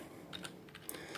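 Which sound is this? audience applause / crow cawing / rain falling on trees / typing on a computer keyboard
typing on a computer keyboard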